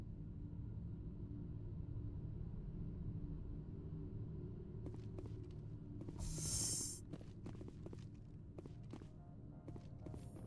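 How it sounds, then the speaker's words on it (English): A storm rumbles outside in the video game Mass Effect, a steady low drone running the whole time, with scattered sharp clicks and a brief hiss swelling partway through. "Looks like a hell of a storm outside."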